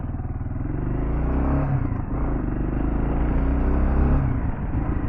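A Kawasaki KLR650 motorcycle on Shinko 244 tyres rides off road, its engine a loud, steady, close rumble with rising revs and loose clatter throughout.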